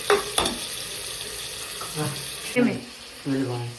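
Onion and tomato fry with curry leaves in a pan, giving a continuous close sizzle and hiss with occasional stirring bursts, while a voice briefly speaks over it near the end.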